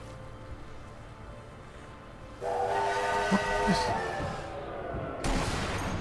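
A steam train whistle blows in the Sniper Elite V2 video game, a loud sustained hissing blast starting midway and lasting several seconds, with someone speaking around it.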